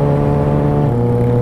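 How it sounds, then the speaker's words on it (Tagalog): Heavy road traffic drones loudly and steadily, heard from a 2019 Kawasaki ZX6R during a ride between San Fernando and Floridablanca. Engine tones shift as vehicles pass close by. "Dami talaga sasakyan."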